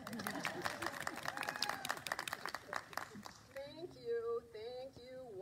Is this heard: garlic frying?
no